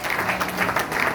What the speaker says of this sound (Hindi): उन सब खिलाड़ियों का जोरदार तालियों की गड़गड़ाहट से स्वागत करें